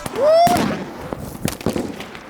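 Fireworks going off near a street drift meet: a rising whistle ends in a burst, followed by several sharp crackling pops spread over a couple of seconds, close and fairly loud.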